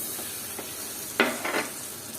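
Ginger garlic paste hits frying rita fish in a hot pan, giving a quiet steady sizzle with a sharp crackling burst and a couple of stirring scrapes partway through.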